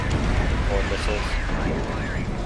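Missiles burst in a Godzilla Destroy All Monsters Melee fight, rumbling blasts layered over dense game noise while a player talks over the action.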